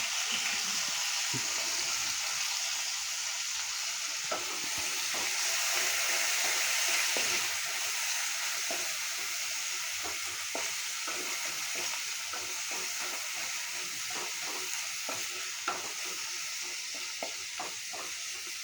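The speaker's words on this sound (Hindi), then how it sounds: "अब इसमें डालेंगे अनियन, जो कि जूलियन कटा हुआ था।" Julienned onions frying in a hot pan give a steady close sizzle with scattered crackles and pops throughout, and no voices.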